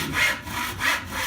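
A hand saw cuts through the top of a wooden bucket in a cooperage class, with two rasping back-and-forth strokes that rise and fall in a steady rhythm, close and loud.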